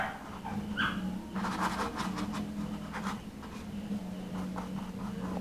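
A neighbor's dog nearby, heard in a quiet room as scattered short barks and whimpers over a steady low hum, with faint brush scratching on a painting.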